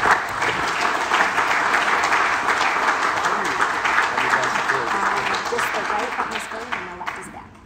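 Applause from an audience welcoming Illinois State Senator Steve Stadelman to the stage, steady dense clapping filling the room for several seconds, then tapering slightly toward the end.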